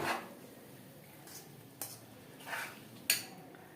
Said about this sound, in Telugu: నెమ్మది నెమ్మదిగా కలుపుతూ ఉంటే పీల్చేసుకుంటుంది గిన్నెకు ఈ పిండి అంతా వదులుతుంది